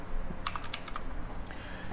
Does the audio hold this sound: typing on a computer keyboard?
yes